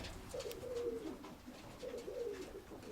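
Pigeons in a loft with young, not-yet-ringed squabs give soft, low, rolling coos in two drawn-out phrases, close and clear against a quiet indoor background.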